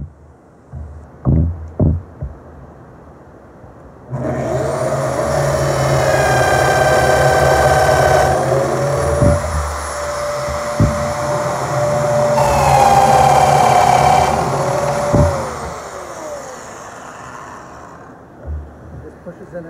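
Domino joiner cutting loose-tenon slots in a wooden bench: a few sharp clicks, then two loud whining motor bursts that spin up and wind down, with a pause between them.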